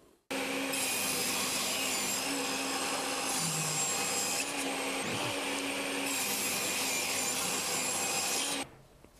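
A saw cuts wooden strips with a loud, continuous whining roar that holds steady for about eight seconds before stopping abruptly.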